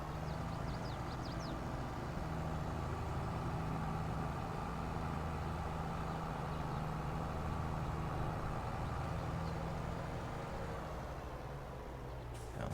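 A tractor engine in Farming Simulator 22 drones steadily throughout, a continuous low rumble that stays at an even level with no speech over it.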